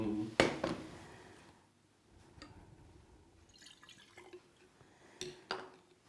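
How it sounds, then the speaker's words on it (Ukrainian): Buffer solution dripped from a pipette into a glass water sample during a hardness test, a few sharp, close liquid drips and taps spaced irregularly over a quiet background. "Додаємо невелику кількість буферного розчину"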